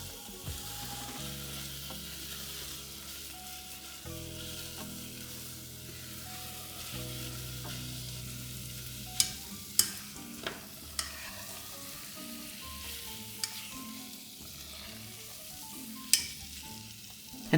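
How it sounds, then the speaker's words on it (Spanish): Thick dough for a crisp-outside, creamy-inside dessert is stirred in a saucepan over low heat, giving a quiet scraping and faint sizzle with a few sharp clicks of the spoon against the pan. "Baja el fuego y sigue removiendo la masa hasta que se seque del todo y se despegue de las paredes y el fondo del cazo."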